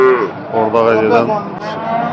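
Young cattle at the Bərdə livestock market let out one loud, close, drawn-out moo that fills the moment, with the low drone of the market underneath.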